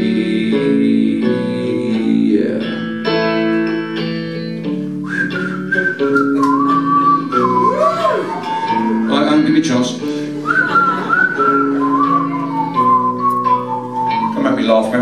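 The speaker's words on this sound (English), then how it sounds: "I'm trying to whistle." A person whistles a tune loud and close, in a steady, wavering melody that carries throughout, alongside a softer harmonic backing.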